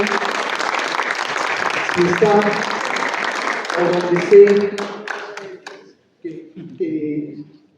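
Applause from the audience at a posthumous tribute to Hugo Herrera, a sustained wash of clapping that fades out toward the end while someone speaks over it.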